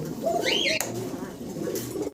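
A pair of Lotan pigeons coos briefly at close range, the soft rolling calls set against background chatter and a short sharp knock partway through.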